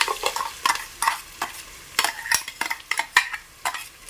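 Tomato paste and shallots frying in oil for a drumstick kulambu: soft sizzling broken by sharp, irregular clinks and scrapes of a spoon stirring against the pan, close by.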